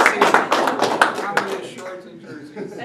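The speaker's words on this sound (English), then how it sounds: "give a round of applause to our two representatives" A short burst of clapping from a group, brisk at first and tapering off, with a voice speaking over it.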